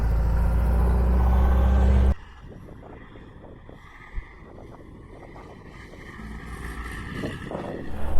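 Kingfisher Overlander custom vehicle on a road test, a loud low engine and road rumble for the first couple of seconds, then a quieter steady drone with wind buffeting the microphone, building again toward the end.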